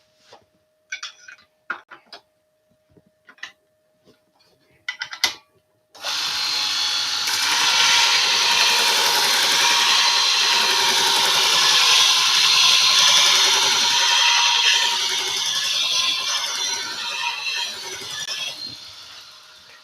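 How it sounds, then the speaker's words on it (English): A woodworking gouge being sharpened on a powered grinder or sharpener: a few scattered clicks and taps, then a loud continuous whirring grind that starts abruptly and holds steady, easing slightly at the end. "Let's just sharpen the gouge again."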